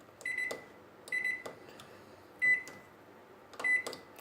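A microwave oven set to high power for five minutes while drying kasuri methi leaves, with a soft hum broken by four short bright beeps spread evenly across the clip.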